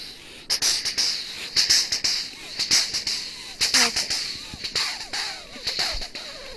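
A mimicry artist voices an electric train with his mouth, rhythmic clicks and hisses in a regular beat like wheels over rails, close and fairly loud.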